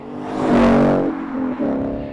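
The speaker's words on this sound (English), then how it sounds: "Then you've got Bolla's first exhaust, the Touring." Ford Mustang S550 fitted with a Bolla Touring exhaust revs hard, then drops back, followed by a second shorter blip. The note is loud and throaty, with no talk over it.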